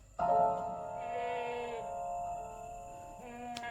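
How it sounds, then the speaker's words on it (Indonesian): Goats bleat loudly in a pen at a village farm: one long, wavering, close-up cry followed by a shorter second bleat against a quiet background. "kambingnya berisik"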